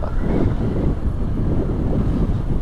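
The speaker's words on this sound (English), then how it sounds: "it's a bit breezy as well, isn't it?" Steady, loud wind buffets the microphone at the Col de l'Iseran high in the French Alps, a continuous low rumbling roar with no breaks.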